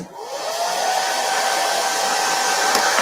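A handheld blow dryer drying a chalk transfer on a watermelon door round, a loud steady whooshing hum with a faint whine that runs unbroken from start to finish, with no talk.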